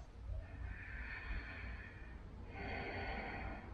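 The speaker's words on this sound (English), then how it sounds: "Nice deep breaths." Slow, deep breaths during a chair yoga session, a soft inhale followed by a longer airy exhale, faint and close with no talking.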